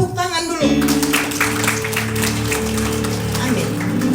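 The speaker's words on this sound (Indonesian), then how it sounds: "Tepuk tangan dulu" A church congregation applauding, a broad wash of clapping that starts abruptly and holds steady under sustained organ-like music tones, with a voice heard at the start.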